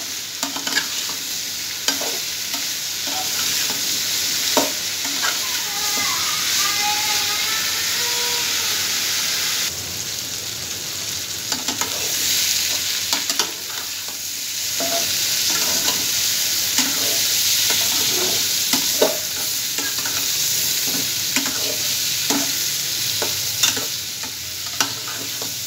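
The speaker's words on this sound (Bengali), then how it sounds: "সবজিটা ভাজা হয়ে গেছে" Vegetables fry in a pan with nigella seeds and green chilies, giving a loud, steady sizzle throughout with occasional scraping stirs and taps of a utensil, and no talking.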